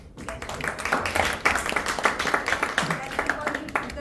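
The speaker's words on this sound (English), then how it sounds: "Can we have one special round of applause" A round of applause from a small group at a club meeting: steady, dense clapping lasting several seconds, heard close, with voices talking over it.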